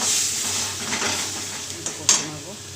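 Onion frying over a high gas flame in a pan, a close hissing sizzle with a few sharp stirring clanks near the end.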